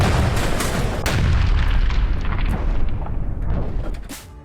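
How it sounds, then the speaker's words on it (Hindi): Russian artillery fires on a Ukrainian command post in Kharkiv, a dense, continuous roar of heavy booms and rumbling blasts that stays loud throughout before easing slightly at the end, with no talking. "रूस की आर्टिलरी यूनिट ने यहां हमला किया"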